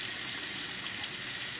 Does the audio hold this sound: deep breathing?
no